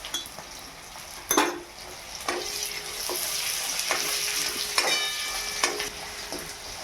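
Peanuts fry in a pan, tossed with a spoon that scrapes and clinks against the metal every second or so over a continuous sizzle. Nearby and fairly clear, with no speech.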